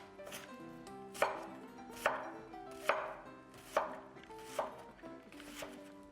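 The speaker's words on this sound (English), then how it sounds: "This knife is sharp as it can be, and this onion is so fresh that it is easy to go through." A sharp knife chops through a fresh onion on a cutting board in about seven crisp, evenly spaced strokes. The strokes are close and distinct, with no talking.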